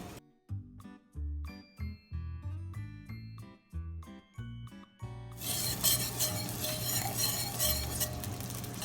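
Unsalted butter melts in a pan over medium heat, with clinks of a utensil stirring against the pan and then a steady, close sizzle once the butter gets hot, over background music.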